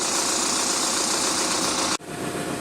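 A tractor engine idling with a steady knocking rumble and broad mechanical noise, close and continuous, briefly cut by a sharp dropout near the end before resuming.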